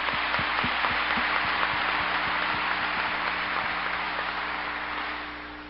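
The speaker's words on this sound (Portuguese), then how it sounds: "uma forte salva de palmas!" Congregation applause during a televised Catholic mass, a broad even wash of clapping heard somewhat distant through a broadcast feed, continuing steadily and tapering off near the end.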